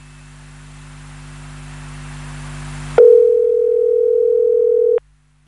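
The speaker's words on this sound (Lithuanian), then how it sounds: "jau bandome rinkti telefono numerį, laukiame signalo" A telephone line on a radio call-in broadcast starts with a low hum that slowly builds, then a loud, steady dial tone sounds for about two seconds before cutting off abruptly.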